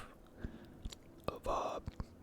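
Someone chews a cold Snickers chocolate bar with nuts close to the microphone, with soft crunches and wet clicks at irregular intervals, a denser crunch midway, all faint and intimate amid breathy whispering.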